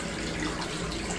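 Hot water rushes from a tap into a hotel bathtub as a steady, close hiss of running water that lasts the whole brief moment, with no talking.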